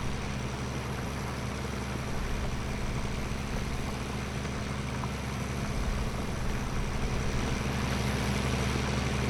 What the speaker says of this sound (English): Go in and listen to the sound of the tractor, man.